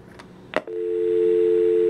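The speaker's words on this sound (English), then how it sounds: "That dial tone's the Google Voice, as you can hear." A steady Google Voice telephone dial tone starts after a couple of brief clicks and holds unbroken, clear and close, with no voices.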